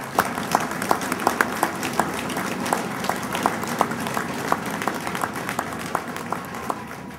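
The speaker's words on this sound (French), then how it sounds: "Alors, je voudrais applaudir pour ça." Audience at an election campaign launch in Brossard applauding, a steady patter of many hands clapping indoors that holds for several seconds.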